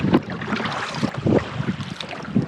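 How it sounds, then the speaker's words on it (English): Wind gusts over open water beside a traditional-style rowboat, a steady rushing buffeted against the microphone, with low, rhythmic sloshing swells from the rowing repeating about once a second. "So much wind pushing me"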